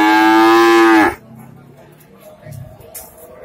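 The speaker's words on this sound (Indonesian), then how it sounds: "Ini sebenarnya sapi bagus ya guys ya." A cow at a Sokaraja cattle market gives one loud, long moo lasting about a second, then the market's quieter background noise carries on.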